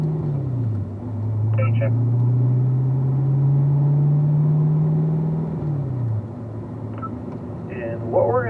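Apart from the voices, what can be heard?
race car accelerating onto racetrack, shifting through gears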